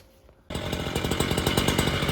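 A petrol power cutter slices into paving around a manhole lid, starting abruptly and running at a loud, steady, rough roar close by with no talk.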